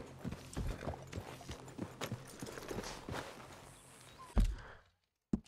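Horse hooves clip-clopping in the video game Red Dead Redemption 2, a run of irregular close hoofbeats with several horses moving about, followed by a couple of louder thuds near the end.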